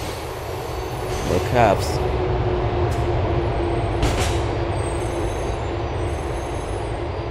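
An LTA subway train in Grand Theft Auto IV runs along the track with a steady low rumble, a brief wheel squeal and air-brake hisses, while a voice speaks briefly over it.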